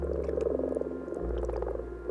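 Frogs call in a dense, continuous chorus at a forest pond during the spring egg-laying gathering, a steady layered croaking close by with no speech.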